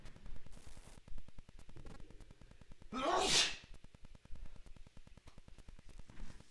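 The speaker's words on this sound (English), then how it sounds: "I have to sneeze." A man sneezes once during a sports talk podcast, a single sharp, loud burst close to the microphone, with no talking around it.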